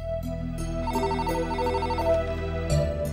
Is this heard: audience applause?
no